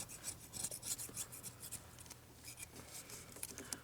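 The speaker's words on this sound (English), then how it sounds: "we're going to scrape off the old gasket" A razor blade scraper scrapes old gasket material off a Chevy Impala engine during water pump replacement, giving a steady run of close, gritty rasping strokes in quick succession, fairly faint and without talk.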